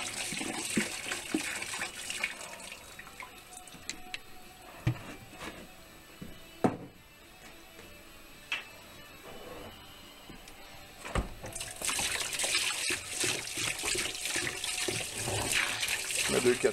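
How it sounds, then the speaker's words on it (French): Vinegar pours from a container in a steady liquid stream for degreasing traps, rising to a louder, fuller gush near the end. "Je mets 2-4 litres de vinaigre."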